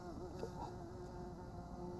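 A bee buzzes faintly and briefly close by, a thin drone in an otherwise quiet setting with no speech.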